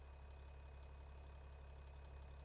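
A tractor engine idles steadily in a farming video game during forestry work, a constant low rumbling drone that holds level throughout with no talking.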